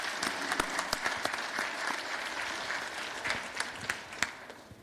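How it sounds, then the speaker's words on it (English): Audience applause for speakers at an information assurance forum, a steady crowd of many hands clapping in a hall with a few sharper individual claps, moderate level and continuous throughout. "How about one more round of applause for our speakers there?"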